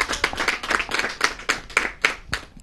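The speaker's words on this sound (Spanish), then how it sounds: "yo creo que vale la pena un aplauso" Applause breaks out at a school event in Mexico, a steady run of sharp, close hand claps from a small group, loud and dense for a few seconds with no talking over it.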